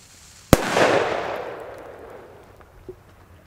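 A single sharp bang from a Polish firecracker, loud and close, followed by a decaying roar of echo that fades over about two seconds, with a faint small pop near the end.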